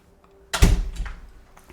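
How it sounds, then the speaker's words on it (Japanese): A toilet room door in an Osaka Airbnb house swings shut with a single solid thunk and a brief rattle as it settles, then a short quiet tail. "ドアを閉めます。"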